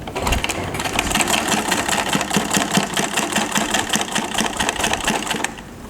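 A sewing machine stitches a pyjama waistband, running steadily and loudly up close with a fast, even mechanical whir and rapid needle clatter that continues without a break.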